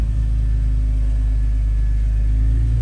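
A wrecked Jeep Wrangler idling as it is shifted into drive, a loud, steady low engine rumble held close and constant throughout with no talk.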